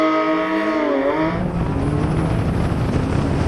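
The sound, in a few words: Porsche GT3 RS and BMW M3 CS rolling race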